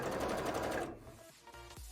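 Sewing machine runs a fast, close, rattling stitch for about a second while sewing frills onto a jellyfish bra, then stops, leaving faint clicks and handling noise.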